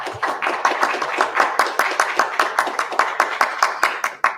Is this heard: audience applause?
yes